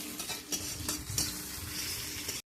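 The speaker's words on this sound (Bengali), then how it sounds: "এবার একটু লাল লাল করে ভেজে নিলে তারপরে কচুরলতিটা দিয়ে দেবো।" Dried red chillies frying in a pan before taro stolons and prawns go in, giving a steady close sizzle broken by several stirring scrapes and light clinks, with no talk.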